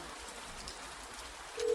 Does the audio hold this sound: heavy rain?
yes